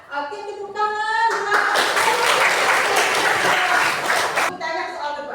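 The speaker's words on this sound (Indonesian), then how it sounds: "tepuk tangan" A class of schoolchildren claps hands together in a burst of several seconds, loud and close, framed by voices speaking before and after.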